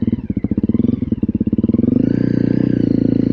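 A Honda CRF300L motorcycle engine thumps in a steady fast rhythm while riding, then its pitch rises into a smoother, higher drone as it speeds up, close and loud with no talk.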